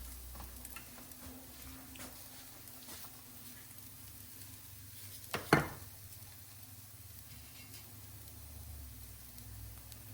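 Salmon croquettes frying in extra virgin olive oil, a low steady sizzle with a brief louder clatter midway.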